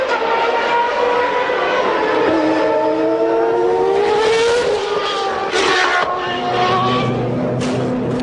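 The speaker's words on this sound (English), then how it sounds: "Prost accelerated out to set the pace" Alain Prost's 1993 Williams Renault Formula 1 car screams loud and close as it accelerates, its engine note rising in pitch through the gears with a steady howl.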